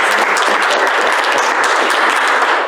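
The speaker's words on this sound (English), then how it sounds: "So, another round of applause." An audience applauds at an activism event, dense steady clapping that fills the whole stretch at high volume without a break.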